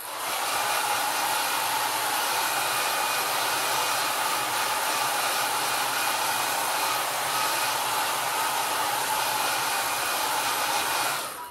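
A hair dryer blows steadily on a watercolor painting, a loud continuous broadband whir held for about eleven seconds with no talking.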